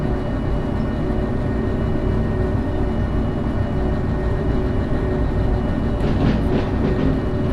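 A locomotive in the train simulator Derail Valley runs with a steady, loud low rumble and a continuous engine drone throughout, with faint rhythmic rail clatter and no voices.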